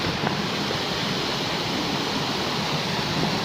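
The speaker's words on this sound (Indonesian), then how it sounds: "ieu salah satu pancuran di wahangan anu tadi caina sing burus-burus barjeng panas" A hot-water spout gushes into a river at Kawah Cibuni in Rancabali, Bandung, making a loud, constant, close rushing roar with no pauses and no voices.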